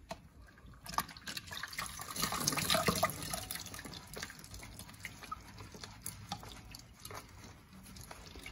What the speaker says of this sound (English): Let's dip it in hot water again.